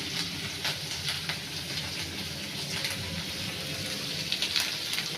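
Shrimp fry with onions and ginger paste in a pan, giving a steady moderate sizzle with soft crackles and occasional brighter spatters, no voices.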